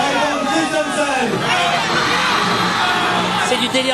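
Fans packed outside the Cannes festival roar and whoop in a sustained, loud wall of cheering, with high shrieks and yells swelling midway and staying intense to the end.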